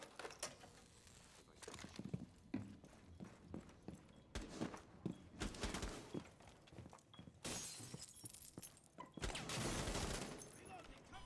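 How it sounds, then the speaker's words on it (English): Gunfire in Rainbow Six Siege on the Oregon map, with several sharp shots and glass breaking as a window is shot open. The shots are spread across a busy, layered game soundscape with footsteps. "Hear somebody shoot, and I see somebody shoot this window open"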